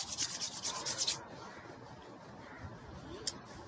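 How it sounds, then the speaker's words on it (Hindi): Hands rubbing briskly together to build warmth during a seniors' fitness session, a quick series of close rasping strokes for about a second, then near silence with one faint brush later. "हाथों को रब कर लीजिए, अच्छी गर्माहट पैदा कीजिए"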